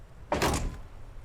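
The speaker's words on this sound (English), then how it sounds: "Close the door." A single solid door thunk closes in the detective game Disco Elysium. It is short and fairly loud with a brief low rumble, and no one speaks over it.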